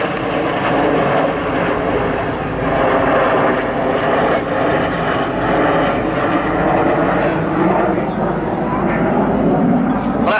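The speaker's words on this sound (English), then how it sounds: "The Red Arrows fly the BAE Systems Hawk T1" Red Arrows BAE Systems Hawk T1 jets flying close formation at an airshow, a loud steady roar of jet engines sustained throughout, with a commentator's voice over the noise.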